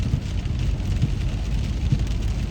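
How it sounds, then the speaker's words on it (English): Steady rain pours down outdoors on a rainy day, a dense, continuous patter with a few louder drops standing out, fairly close and alone without any talking. "It's just a rainy day."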